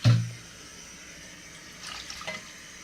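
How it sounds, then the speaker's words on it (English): Water goes into a pot to cook fish for okra soup, opening with a short thump and splash, then settling into a soft, steady pouring hiss with small gurgles later on. "Then you add in water to use to cook the fish."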